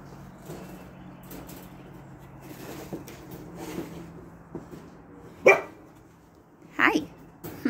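A dog barks a couple of times at a distance, sharp isolated barks over quiet outdoor background noise.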